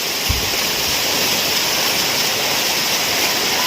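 Heavy monsoon rain falls in Chiplun's flooded market area, a loud, dense, unbroken roar of water with no talk over it.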